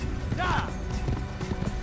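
A horse gallops in Assassin's Creed, its quick hoofbeats running through a dense, steady bed of game sound, with a brief whistling cry near the start.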